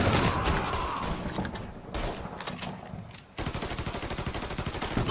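Rapid bursts of gunfire in Mafia 3, loud and close, with dense automatic volleys in the first half, a short lull, then sustained fast rattling shots to the end.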